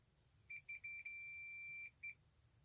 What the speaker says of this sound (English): So it beeps.